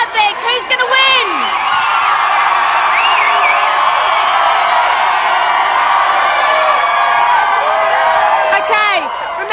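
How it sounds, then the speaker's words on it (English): A live television studio crowd cheers, whoops and chants continuously and loudly, many voices shouting together at close range in a sustained roar for the length of the clip. "They're all chanting Brian here."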